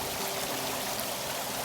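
Water runs steadily along a man-made brook that once fed a mill. A continuous, even rushing and trickling wash is heard up close, with no voices.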